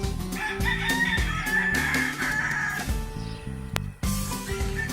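RTL chickens call close by in a loud, continuous run of clucks and crowing-like cries, with one brief sharp click partway through.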